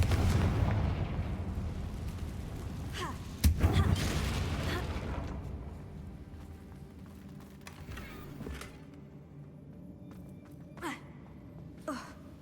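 Fiery Confringo spell blasts in the video game Hogwarts Legacy: a loud, roaring burst opens, a sharp explosive crack lands mid-clip, then the rumble fades into quieter thuds and scattered effects.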